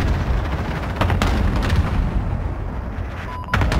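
Loud battlefield booms and blasts in Call of Duty Modern Warfare, with a stun grenade going off among repeated sharp explosive hits over a dense rumbling background.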